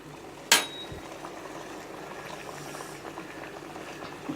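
Puffed puri frying in hot sesame oil, a steady close bubbling fizz that holds throughout, opened by a single sharp clink as the dough goes in.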